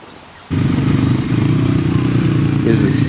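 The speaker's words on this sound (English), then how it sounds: "So quite a lot of bikes." A large group of motorcycles on an ANZAC Day ride, engines starting up suddenly into a loud, steady, close rumbling idle that carries on without a break.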